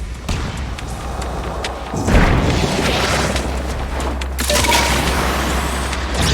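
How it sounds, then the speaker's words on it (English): A deep, loud boom from an explosion in the video game Warframe during Heart of Deimos, bursting about two seconds in and rumbling on as a dense roar over continuous game ambience, with a second swell near the end. "There should be useful detritus falling from the explosion."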